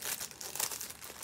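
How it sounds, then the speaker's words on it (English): Close, continuous crinkling of a plastic package holding 32 count linen fabric, a dense rustling that rises and falls for about a second. "sorry for the crinkling"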